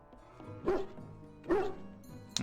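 A hound in the Dragon Age: Origins video game gives two short barks with whimpering tones, then a sharper yip near the end, clear over a quiet background.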